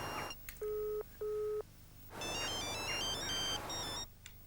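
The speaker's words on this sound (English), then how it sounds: "Her mobile phone kept ringing" A mobile phone rings in two short, loud electronic tone bursts, followed by a longer stretch of higher melodic ringtone notes over a steady background hum.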